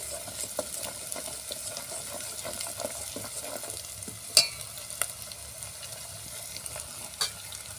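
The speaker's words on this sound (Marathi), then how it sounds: "आता हा मसाला आपला पूर्ण झाला आहे तेलामध्ये चांगला शिजला" Masala cooking in oil on a wood-fired stove, with a steady soft sizzle close by and occasional light clinks and scrapes from stirring, quiet and with no talking.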